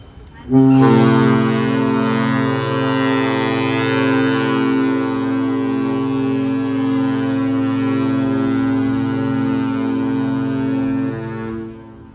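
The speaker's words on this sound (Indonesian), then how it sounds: "Itu dibunyikan klakson, tanda panggilan setengah jam lagi." A deep, steady ship horn sounds a half-hour boarding call, blasting continuously for about eleven seconds, loud and sustained with rich low harmonics, then cuts off.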